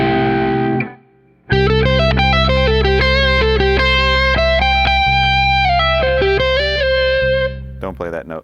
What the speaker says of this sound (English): All right, so over a C, we have a C6 sound.